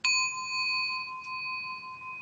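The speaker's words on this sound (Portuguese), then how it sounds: "esse aqui é o meu sino" A meditation bell struck once, giving a bright clear ding that rings on in a pure sustained tone and fades slowly, alone and close.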